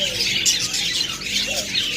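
A pair of pet birds, budgerigars, cockatiels or lovebirds, squawk and chatter in shrill, overlapping bursts close by, with faint background noise throughout.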